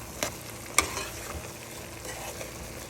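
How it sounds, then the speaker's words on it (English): Bouillon seasoning is stirred into a cooking pot: two sharp utensil clinks, then a soft, low sizzle and light stirring, quiet and close. "And I'll give this a stir."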